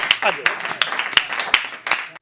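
An audience at a Hindi comic poetry event claps to welcome a poet, sparse sharp claps landing in an uneven beat over a faint background murmur of voices.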